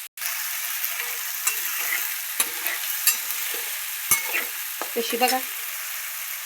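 Soaked dal stir-fried in a hot pan gives a steady, close sizzle broken by spatula scrapes and clicks, with a brief voice at one point.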